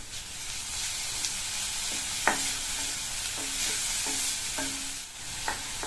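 Grated carrot with a pinch of turmeric sautéing in a pan, a soft continuous sizzle with several distinct spatula scrapes and taps at irregular intervals, quiet and close.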